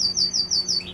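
Goldfinch singing close by, a quick series of bright rising whistled notes repeated rhythmically within a second, over a faint low hum.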